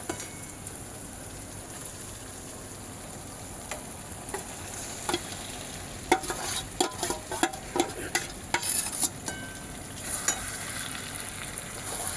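Chicken pieces fry in a pan of spiced oil, a steady close sizzle that builds into bursts of spattering crackle and stirring clicks midway through, with no talk.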